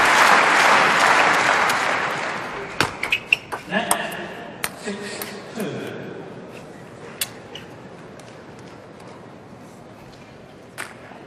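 Spectators at the 2011 German Open men's singles table tennis final clapping to lift Timo Boll against Zhang Jike: loud applause fades over a few seconds, then gives way to sparse sharp ball clicks and a commentator's voice.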